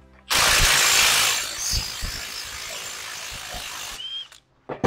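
A power tool whirs loudly while removing hub nuts on a Ram 2500 during a ball joint replacement, one sustained burst that eases slightly before stopping sharply, with a few clicks afterward.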